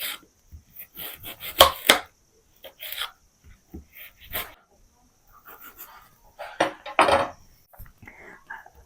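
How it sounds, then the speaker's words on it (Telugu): A knife chopping an onion into small pieces on a board: uneven bursts of sharp cuts, some quick runs of strokes with pauses between, close up, with faint breathy sounds in the gaps. "చిన్న చిన్న పీసులుగా కటింగ్ చేసుకుందాం ఒక ఉల్లిగడ్డ"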